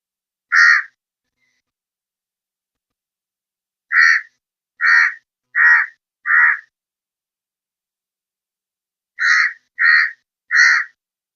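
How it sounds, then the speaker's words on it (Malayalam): Crows caw while scavenging leftover fish: a lone caw, then a quick run of four, a quiet pause, and a final burst of three harsh, fairly close calls, with no other sound between them. "അത് തിന്നാൻ വേണ്ടിയിട്ടുണ്ട് നമ്മുടെ കാക്കകൾ വന്നിരിക്കുന്നത്"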